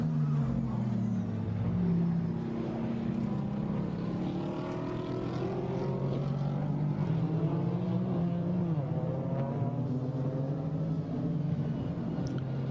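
GT4 race cars lapping Paul Ricard circuit, a continuous loud engine drone with shifting pitch as a car runs at full racing pace, no voices over it.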